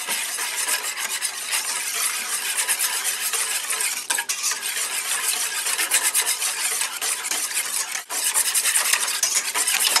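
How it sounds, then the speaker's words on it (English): An egg being whisked into a dinner roll mixture in a bowl, a continuous close rapid scraping and rattling of the whisk that runs the whole time, briefly dipping twice, with no voices. "Mix this until the mixture is well combined."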